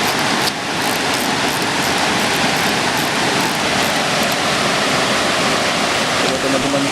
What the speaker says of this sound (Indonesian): Jadi air terjun itu ya.